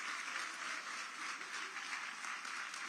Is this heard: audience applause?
yes